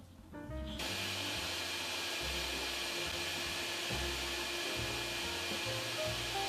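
A workshop dust extraction system runs through a long hose to pick up sawdust, starting with a quick spin-up and then holding a steady loud rushing hiss with a low hum and occasional rattling thumps.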